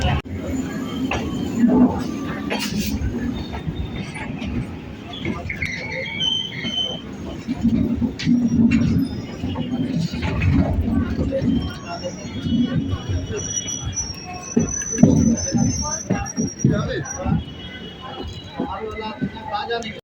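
Budge Budge local train pulling out of Sealdah station, wheels squealing and carriages rattling with clickety-clack rhythm, loud and close from onboard, with people talking throughout.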